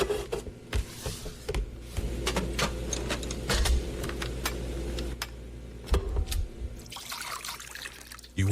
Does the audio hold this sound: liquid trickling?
yes